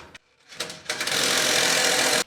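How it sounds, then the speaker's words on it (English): A power driver sends screws into a wood stud, with a couple of short whirring starts followed by a long, loud, steady buzzing run that stops sharply. "A couple of screws to hold it to the wood stud."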